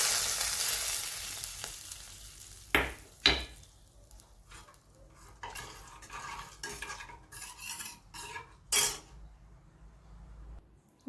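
Sizzling garlic tempering is poured into drumstick soup, a brief loud sizzle followed by scattered clinks and stirring of a spoon against the pot, with no talk.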